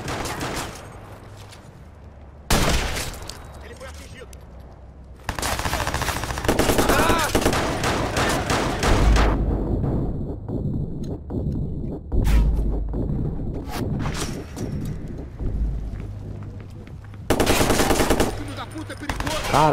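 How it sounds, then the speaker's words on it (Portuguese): Automatic gunfire fills a Watch Dogs shootout: loud, rapid bursts of machine-gun fire and single shots arrive in repeated volleys, with short quieter gaps between them. "Ah, vocês querem brincar de tiroteio aqui no bagulho,"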